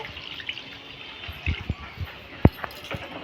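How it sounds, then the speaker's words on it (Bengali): Water poured into chicken curry in a pot during rustic village-style cooking, heard as quiet splashes and trickles with a few sharper drips and one clearer splash, no talking. "এবারে দিয়ে দিচ্ছি পরিমাণ মতো জল"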